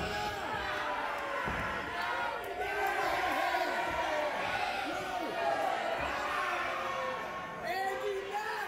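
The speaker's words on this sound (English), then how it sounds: "Crowd letting them know." A crowd at a 901 Wrestling main event in Memphis, Tennessee cheers and chants loudly and continuously, with a commentator's voice running over the noise.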